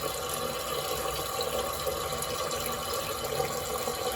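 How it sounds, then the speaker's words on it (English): Water runs steadily from a faucet, a faint, even hiss and rush that holds constant without breaks from start to finish. "So now I am going to record the running Faucet data."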